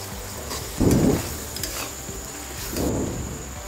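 Ginger-garlic paste stirred into chicken curry in a hot pan, with two bursts of scraping, sizzling stirring about two seconds apart over a steady low frying hiss, close and fairly quiet.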